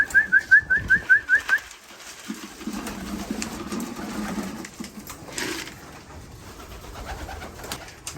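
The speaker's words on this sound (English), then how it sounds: "It's about the 4th time I fed them, and they're still eating." Pigeons at a feeding spot during young bird racing season, with a close run of about eight rhythmic coos at the start, then softer rustling, pecking and background bird activity.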